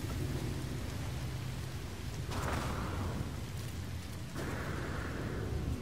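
Steady rain pours down in the No Man's Sky game world, with low thunder-like rumbles swelling twice, loud and continuous throughout, with no talk over it.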